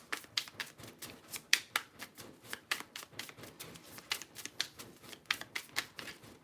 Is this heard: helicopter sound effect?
no